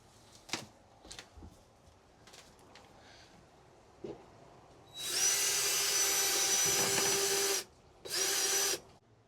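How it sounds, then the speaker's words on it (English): A power drill drilling a pilot hole in a diesel heater fuel tank starts after a few faint knocks, whining steadily for about two and a half seconds, stops briefly, then runs again in a shorter burst. "I am going to drill a pilot hole in the center"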